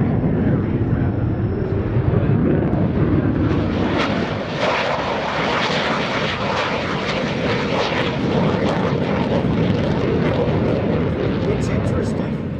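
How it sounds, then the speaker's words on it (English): An F-16CJ Fighting Falcon jet roars past on afterburner at the 2017 NAS Oceana airshow, a loud, sustained rumble with crackling bursts. An announcer talks underneath throughout. "Pouring on jet fuel into the exhaust to give this airplane a kick in the pants"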